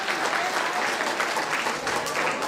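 An audience at a community get-together event claps together in a dense, steady burst of applause that is loud and sustained throughout.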